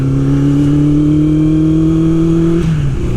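A Honda CB 750 café racer motorcycle engine drones steadily at a loud, close pitch while riding, holding a smooth, even tone before the revs drop briefly near the end.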